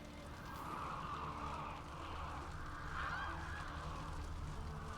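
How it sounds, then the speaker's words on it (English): Birds honking like geese in The Witcher 3 woodland setting, a faint distant flock calling continuously over quiet ambient game sound. "Are those birds that we hear in the distance?"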